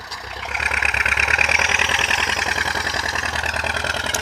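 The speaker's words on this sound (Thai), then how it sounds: "คือเราติดสามสูบบ่พี่น้อง พี่น้องฟังเสียงครับ" A three-cylinder diesel tractor engine idles close by, a loud, even low rumble with a fast regular knock that holds throughout.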